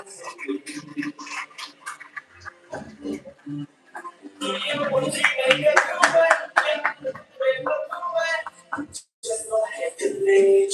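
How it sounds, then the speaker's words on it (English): Audience applause at a university event in Gandhinagar, a broad burst of clapping swelling midway and continuing loudly to the end, with a speaking voice over the start. "Huge round of applause, everyone."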